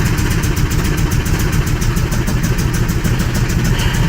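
A Buick 455 V8 in a G-body Cutlass, running with timing too far advanced and a fuel delivery problem, gives a loud, close, lumpy idle with rapid regular pulses and coughing backfires through the intake, with no voices.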